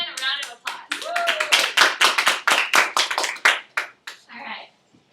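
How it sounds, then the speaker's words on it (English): An audience gives a short round of applause at a research presentation, with sharp close claps that swell and then thin out over a few seconds, and a voice briefly heard at the start. "let's give Anne a round of applause"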